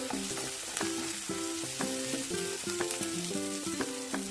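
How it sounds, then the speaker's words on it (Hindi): Sliced onions frying with a spoonful of salt in a pan for egg curry, a steady close sizzle and crackle running throughout with repeated scraping as a spoon stirs them. "मेरा प्याज अच्छा से फ्राई हो, इसलिए हम डाल देंगे इसमें 1 चम्मच नमक और इसको चला लेंगे।"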